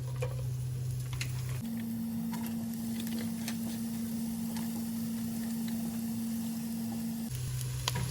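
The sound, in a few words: onions frying in hot oil for chicken karahi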